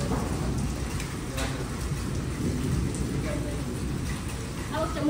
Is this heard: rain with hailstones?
yes